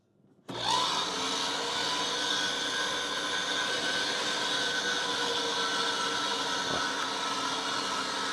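Meat grinder grinding venison for burgers starts abruptly and holds a loud, steady motor drone with a rough grinding texture, close by and uninterrupted for several seconds.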